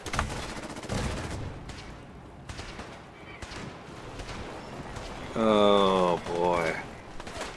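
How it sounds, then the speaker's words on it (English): Ship cannons fire in the video game Fallout 4, a scattered series of heavy booming shots over a rumbling background, followed by a voice speaking briefly near the end. "The cannons are ready. Fire at will."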